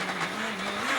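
Mitsubishi-free note aside, an S2000 rally car on a Cyprus rally stage holds its engine high in the revs, a steady loud buzzing drone with slight pitch wavering, close and continuous.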